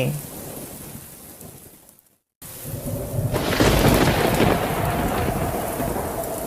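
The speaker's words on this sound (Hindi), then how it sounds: "तेज बारिशें शुरू हो गयी" A thunderstorm with heavy rain: a steady loud roar of downpour swells after a brief silent gap, with deep rolling thunder rumbling underneath and no voices.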